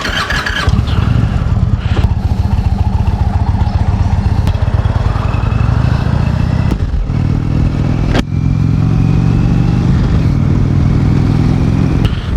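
A 2018 Indian Chieftain Limited motorcycle engine runs loud and steady while riding, its deep rumble rising and falling through shifts with occasional sharp clicks, close and constant throughout.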